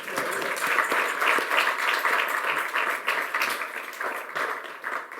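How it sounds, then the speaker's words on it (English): Applause from an audience at an evening birthday reception for a policy think tank, steady dense clapping lasting throughout, fairly close and full, thinning slightly toward the end. "I'd like to have a big round of applause to my colleagues"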